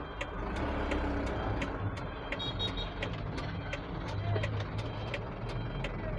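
A heavily loaded Mitsubishi Canter truck reverses, its backup alarm beeping in an even, repeating rhythm over a low, steady diesel engine rumble, with a voice faintly audible underneath.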